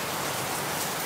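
Heavy typhoon rain pours down steadily over a house, a dense, unbroken roar of downpour with no pauses and no voices.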